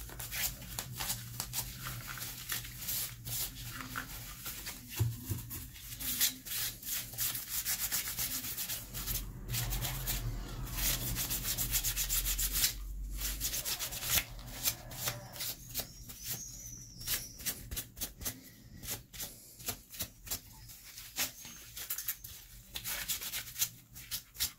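Cleaning a PLA 3D print after acetone smoothing produces close, quiet, continuous scrubbing and rubbing, an irregular rasping friction of cloth or tissue against the plastic surface that lasts throughout with no speech.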